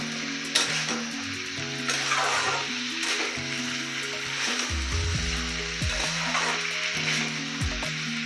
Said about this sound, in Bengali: এবার সুন্দর করে মিশিয়ে দিচ্ছি ভালো করে।